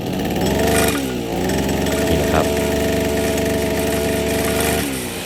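A small two-stroke brush cutter engine runs steadily at a high, buzzing idle, close by, after a fix for gear-head vibration, with a brief dip in pitch partway through.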